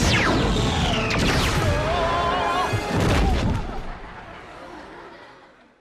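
Expelliarmus spell effect in a Harry Potter video game: a loud, booming magical blast with sweeping whooshes and crackling bursts, sustained for several seconds before fading away.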